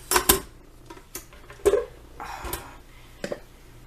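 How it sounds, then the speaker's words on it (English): Inner pot of rice being set into a rice cooker, a few close clunks and metallic knocks with light handling clatter between them, spaced irregularly. "Then you put it in a rice cooker."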